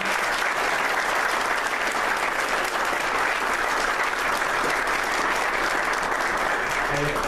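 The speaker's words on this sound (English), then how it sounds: "what a big round of applause for all of our inductees" Sustained audience applause for Hall of Fame inductees at a Gibraltar Carlson induction ceremony, loud and even throughout with the crowd clapping steadily.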